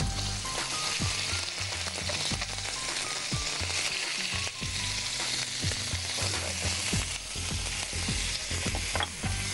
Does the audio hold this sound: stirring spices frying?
yes